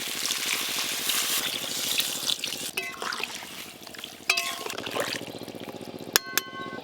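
Water poured into a pan of fried taro and spices, giving a hissing sizzle and liquid trickle, with a few metallic clinks of a utensil against the pan and no speech.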